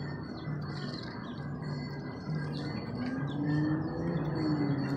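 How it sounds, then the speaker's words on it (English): Small, high chirps from a baby bird repeat faintly over a steady outdoor murmur, at a spot where squirrels and birds are being hand fed. "look at the baby bird"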